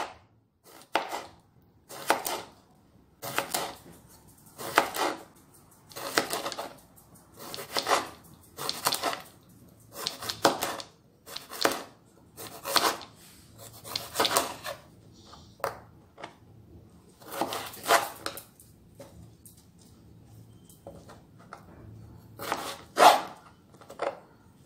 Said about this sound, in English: we're going to slice the cucumber